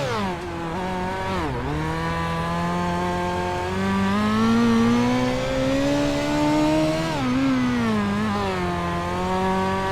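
USAC midget race car in iRacing at Lanier, its engine buzzing loudly and continuously with pitch rising and dipping as the throttle is worked, two sharp drops where the driver lifts, close and alone without talk.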